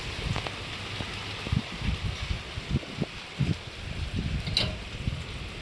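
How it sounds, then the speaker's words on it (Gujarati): Light rain patters steadily, with scattered soft thumps of drops landing on a nearby surface. "અહીંયા પણ વરસાદ આવે છે"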